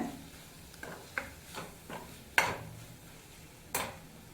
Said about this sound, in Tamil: அதையும் அந்த மசாலாவோட ஒரு நிமிஷம் வதக்கி விட்டுக்கோங்க